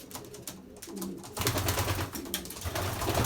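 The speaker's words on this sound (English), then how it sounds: "the birds are flying all over the place for some reason" Racing pigeons coo softly in a loft, with low rolling calls building in the second half, mixed with fluttering and rustling as birds move about close by.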